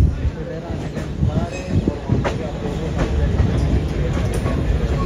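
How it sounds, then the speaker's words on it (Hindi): A small amusement-ride train in Ajmer rolls around a circular track, giving a steady rumbling clatter of wheels with a few squeaks, close and fairly loud, while someone talks over it. "ये ट्रेन जो है ना ये पूरा घूमती है, ये देखिए घूमना शुरू हो गए"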